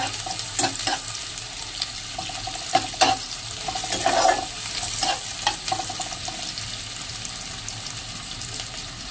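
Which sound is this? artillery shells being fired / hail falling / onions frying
onions frying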